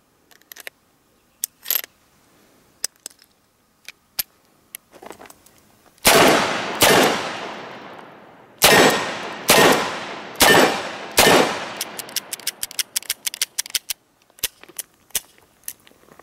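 A Dan Wesson 715 .357 Magnum revolver fires at an outdoor range: loud, spaced single shots with ringing decay, a cluster of five in quick succession, amid clicks and clanks of handling and reloading.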